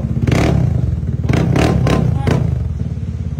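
A motorcycle engine runs loud and close with a constant low drone, while several sharp rev bursts or clattering hits punch through across the middle.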